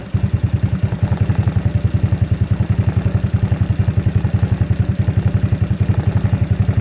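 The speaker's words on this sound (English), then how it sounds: "And let's rev this up to 1500." A GY6 scooter engine revs up to about 1500 rpm, a loud, close, steady rapid chugging pulse with a regular mechanical beat throughout, heard alone.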